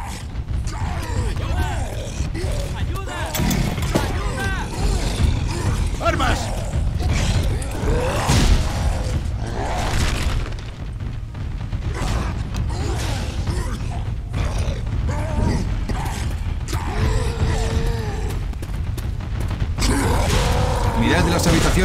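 A door creaks open in a video game, its drawn-out groaning mixed with mechanical clanks, ratcheting and occasional crashes, while players talk excitedly over the continuous noisy scene.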